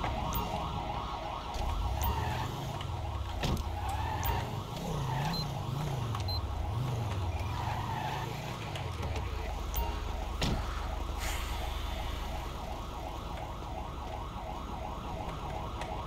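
Wailing ambulance siren in the Grand Theft Auto V police mod LSPDFR, a steady rising and falling sweep that carries for several seconds over a continuous engine-like drone, then gives way to the drone alone.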